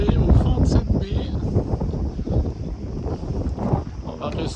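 Strong, steady north wind buffets a sailboat anchored in a bay in Greece, producing continuous loud rumbling wind noise on the microphone throughout, with no clear talk.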